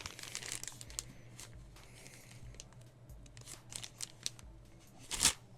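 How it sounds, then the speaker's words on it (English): Scissors snip and crinkle through plastic packaging of a small horror toy figure while unboxing, with scattered close cuts and rustling and a sharper crunch near the end. "Holding the scissors."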